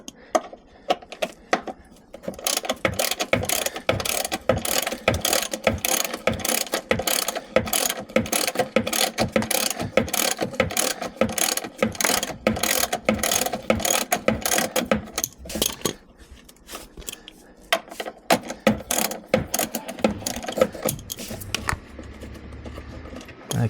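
3/8-inch ratchet turning a 10mm bolt on a car mud flap, rapid close clicking in long continuous bursts broken by short pauses, fairly quiet with no talking.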